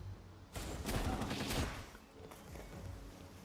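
Gunfire in the video game Palworld comes as a loud burst of rapid shots, with a dense volley up front followed by quieter scattered shots, and no talking over it.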